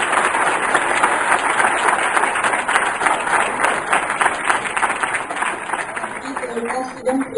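An audience at a congress session applauds a speaker, a sustained wash of clapping that stays even and fairly loud, fading slightly toward the close.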